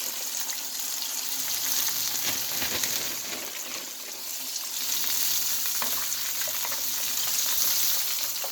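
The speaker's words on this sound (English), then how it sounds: "As long as it's frying, you know you're good." Fries deep-frying in hot oil give a steady, close sizzle with constant bubbling and crackle, a faint stir or clatter now and then, running the whole time with no talk.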